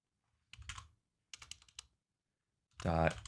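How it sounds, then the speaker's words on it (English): Code being typed on a computer keyboard while building a JavaScript/React app, with two short bursts of clicky keystrokes, close and moderately quiet, followed by a brief voiced sound at the end. "if I type this dot props dot app state dot"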